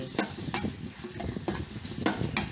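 Pork neck stir-fried in a pan for a spicy Thai basil dish: rhythmic scraping stir strokes, about six sharp clacks of a spatula against the pan over a continuous close sizzle, no talking.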